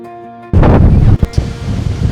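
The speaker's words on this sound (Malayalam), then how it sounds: "ഓ ഒടുക്കത്തെ കാറ്റാണ്, ഒടുക്കത്തെ കാറ്റ്. പറന്നു പോകും." Strong gusty wind buffets the microphone on a steep rocky hill, a loud roaring rumble that starts abruptly after a near-silent opening and keeps surging with sharp thumping gusts, with no talk.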